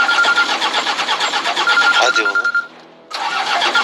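A car engine cranking with a fast, rhythmic whirring of the starter that fails to catch, stopping briefly before cranking resumes, loud and close, with a short spoken exclamation.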